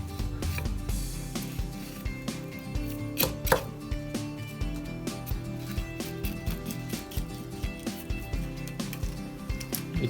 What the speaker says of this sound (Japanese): バリバリさばいていってください。